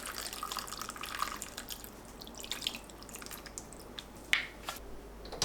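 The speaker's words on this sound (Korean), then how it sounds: "양념을 붓습니다." Seasoning sauce poured over braised mackerel in a pot with green onions, a soft, wet trickling with small splashes and drips, faint and close, with no speech.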